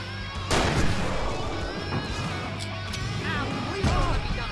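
Flashbang going off in the video game Alan Wake: a sharp burst opens the clip, followed by a second blast near the end, loud and close over a dense game soundscape.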